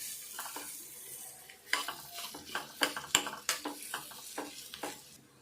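A spoon stirs and scrapes through potato bonda filling in a pan, producing a run of quiet, irregular clinks and soft scraping taps, each brief and close, with no talking.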